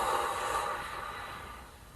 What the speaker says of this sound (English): out through pursed lips with sound.